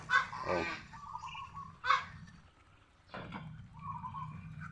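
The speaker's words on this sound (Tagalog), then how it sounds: "Yan po yung mga pato natin, mga malalaki." Loud honking quacks from large ducks burst out in a few irregular calls, close by, with quieter gaps between and a faint background hum.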